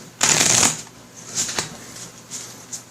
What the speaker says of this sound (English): So let's just shuffle the treasure deck